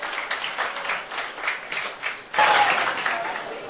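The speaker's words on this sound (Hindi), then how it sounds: "जोरदार तालियां कन्हैया और शुभ्रस्था के लिए बजा दीजिए" An audience claps for Kanhaiya Kumar and Shubhrastha at a public discussion event, a moderate wash of applause that swells louder partway through, with a voice speaking over it.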